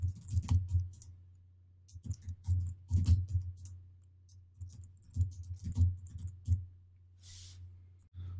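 Soft, irregular clicks of a computer keyboard as code is typed, quiet taps in short clusters with pauses, over a low steady hum.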